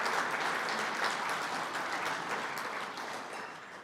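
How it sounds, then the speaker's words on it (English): A crowd at a university athletics hall of fame ceremony applauds the creative team in a steady, dense wash of clapping that fades gradually toward the end. "Please give them a round of applause."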